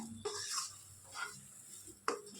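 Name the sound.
stirring barnyard millet dough in a pan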